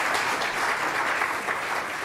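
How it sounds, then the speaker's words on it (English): Conference audience at an opening ceremony claps for presenters in a steady, even round of applause, moderately loud and unbroken throughout, with no voices over it. "To all those that presented, let's give them a round of applause."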